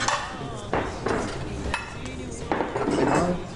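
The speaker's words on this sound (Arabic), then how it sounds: "عم وسع الصحون على الطاوله" Dishes clink and clatter as plates are set out on a table during an indoor sitcom scene, a run of several knocks and rattles spread over a few seconds with faint voices underneath.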